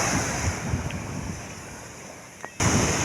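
Sea waves wash steadily onto a beach strewn with driftwood, a broad continuous rush with wind noise on the microphone and a brief dip before the surge returns.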